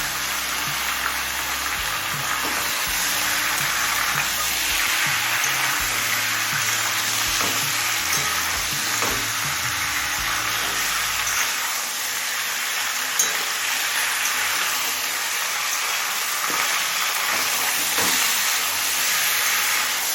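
Chicken pieces frying in hot oil over a high flame in a kadai, a loud, steady broadband sizzle that continues throughout with occasional stirring scrapes, no voices.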